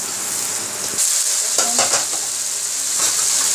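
Vegetables fry in oil in a wok, a loud continuous sizzle up close, broken by several scraping stirs of a utensil through the pan, with no voices.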